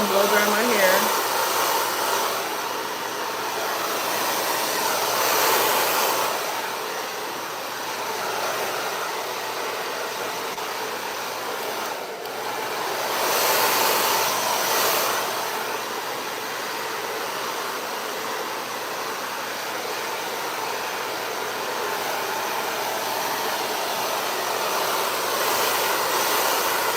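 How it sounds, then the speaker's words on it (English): A hair dryer blows steadily at close range while drying hair, a constant whooshing roar with slight swells in loudness as it is moved around. "I'm gonna go ahead and blow dry my hair."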